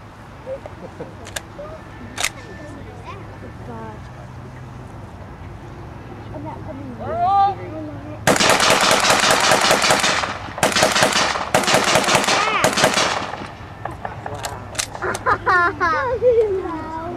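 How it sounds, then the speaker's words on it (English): A semi-automatic Browning automatic rifle fired in rapid succession at an outdoor WWII weapons demonstration, loud sharp bursts of quick shots over several seconds followed by a few scattered reports, with people talking around it. "This one is semi-automatic, but I can pull the trigger fast enough."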